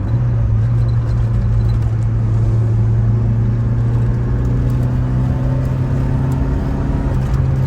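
A 1987 Saab 900 Turbo's engine revs in a steady, loud, droning hum with a low rumble, held continuously throughout without talk.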